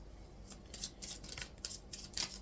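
Pixie oracle cards being cut and shuffled by hand, a run of soft papery riffles and slaps in uneven bursts, close and fairly quiet with no voice.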